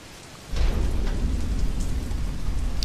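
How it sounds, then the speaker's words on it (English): Stormy weather in the video game Deadlight, with steady heavy rain and a deep rumbling thunder roll that swells in at once and then holds a dense, continuous wash with no voices. "Storm."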